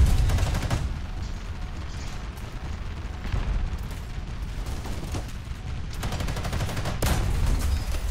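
Tank gunfire in an online armored combat game, with a T-80U-E1 in play: loud booming shots and blasts over a constant rumbling battle din, several heavy bursts spread across the stretch, no speech.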